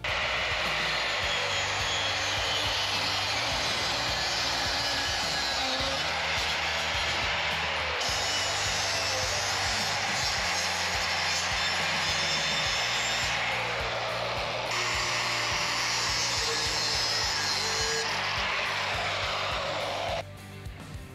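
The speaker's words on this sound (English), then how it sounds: "I'm going to go through with the flap disc and lower the notches in one of them" A flap disc grinds notches in steel tubes for crash bars on a Honda Trail 125, making a loud continuous abrasive whine that runs near and steady for about twenty seconds with small shifts in pitch, then stops at the end.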